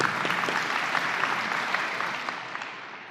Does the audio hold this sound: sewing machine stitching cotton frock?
no